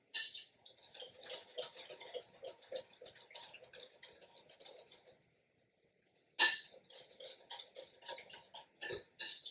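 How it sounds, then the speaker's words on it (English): Egg yolk and lemon zest custard is whisked briskly in a bowl: a rapid, steady run of light metallic clicks and taps stops briefly and then resumes at the same quick rhythm, close and clear. "Now, whisk it all together."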